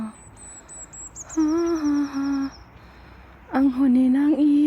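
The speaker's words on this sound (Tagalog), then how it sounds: "Ang huni ng ibon." Bird calls ring out on a snowy, slippery mountain trail: a faint high whistle first, then two bursts of clear, wavering mid-pitched notes, fairly close and loud, with quiet gaps between them.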